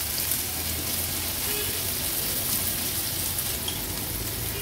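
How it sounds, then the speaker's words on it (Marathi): Chopped onion and green chilli sautéing in oil on a tawa over a low gas flame: a steady, soft, hissing sizzle that holds evenly and fairly quietly for the whole stretch, with no talking. "गॅसची फ्लेम लो करते आणि तव्यामध्ये कांदा थोडासा तेलात परतून घेते"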